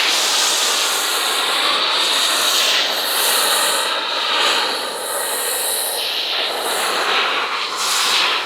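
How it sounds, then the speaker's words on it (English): Pressure-washer spray hitting a car that has been foamed with pH-balanced auto soap during a wash, a loud continuous hiss that rises and falls slightly as the stream sweeps across the body, no voices. "So we're going to spray down the car."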